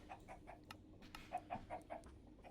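Chickens in the Minecraft video game clucking in a quiet, steady run of short repeated clucks, several in quick succession, with no talk over them.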